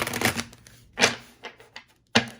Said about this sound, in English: So I'm going to go ahead and shuffle so that we can pull out your predictions here for the week